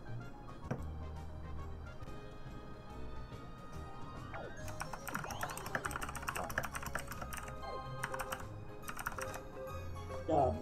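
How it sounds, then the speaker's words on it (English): Rapid, continuous clacking of keys on a computer keyboard, close and fairly quiet, goes on during a Mario Party 5 game session. Game sounds and background noise run underneath. "God, the typing is real."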